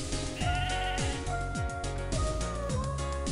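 Sheep bleating in the online game Mabinogi, several wavering harmonic bleats repeating over a steady bed of game music, close and fairly loud, with no talk.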